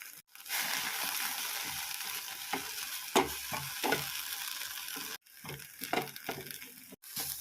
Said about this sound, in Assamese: গুচোৱাৰ পাছত মই পাতখিনি ভাল ধৰণে ধুই লৈ এখন কেৰাহীত ভাজি লৈছোঁ।